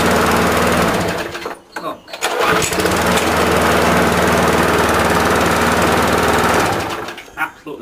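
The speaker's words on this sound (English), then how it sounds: "you've got an engine, now it works." A small two-stroke petrol engine runs steadily after restarting, a loud close buzzing drone that briefly dips and stutters near the start and cuts out at the end, with someone speaking briefly.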